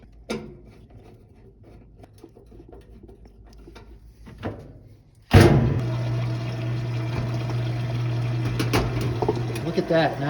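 Whirlpool top-load washing machine pumping out its water, a sudden steady rushing drain noise with a pump hum that starts partway through and continues to the end.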